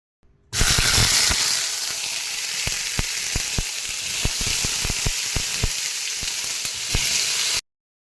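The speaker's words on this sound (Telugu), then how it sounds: "ఇలా ఆయిల్ పోసుకున్నాక కొన్ని టమాటాలు, పచ్చిమిర్చి మనం ఈ ఆయిల్లో ఉడికించుకోవాలి." Tomatoes and green chillies frying in hot oil in a pan for chutney, giving a loud, steady close-up sizzle with sharp crackles popping all through it until it stops abruptly.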